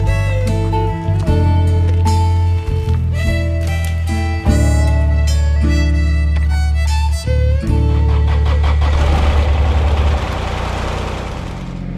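A Kubota tractor engine runs steadily as the tractor backs out, a loud, close mechanical drone with dips in level and a rougher stretch near the end; no one speaks.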